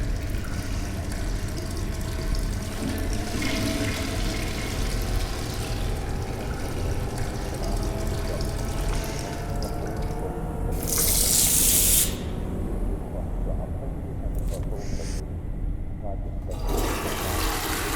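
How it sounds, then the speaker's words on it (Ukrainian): Toilet flushing and running water in the video game STASIS, a continuous loud rush of water lasting the whole stretch, with a hissing burst near the end and a voice talking over it. "Унітаз, напевно, закрутили воду."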